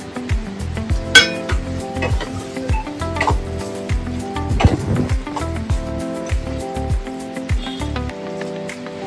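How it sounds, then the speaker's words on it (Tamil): Prawn thokku sautéing with mint and coriander in a pan, Chennai style: repeated metal clinks and scraping of a spoon against the pan over a faint sizzle, close and steady, with no talk. "கொஞ்சம் புதினா, கொஞ்சம் கொத்தமல்லி போட்டு கொஞ்ச நேரம் வதக்கிக்கலாம்."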